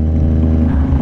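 A car engine fitted with an aftermarket muffler idles and revs close by, a dense, steady low rumble with no voices.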